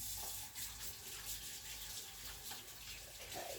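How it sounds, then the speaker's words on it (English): Tap water runs steadily into a kitchen sink while hands are rinsed to wash off onion, a continuous splashing gush heard up close with no talking. "Let me wash my hands, get that onion off."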